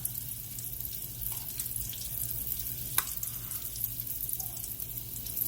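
Biscuits fry in grease with a steady, soft crackling sizzle throughout, faint and continuous with a few small pops.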